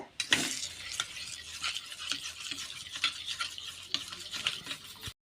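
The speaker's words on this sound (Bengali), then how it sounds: "এবার দইটাকে ফেটিয়ে নেব" About 500 grams of yogurt being whisked with sugar in a bowl for doi bora, a rapid series of close scraping and tapping strokes against the bowl with an irregular, brisk rhythm and no talk.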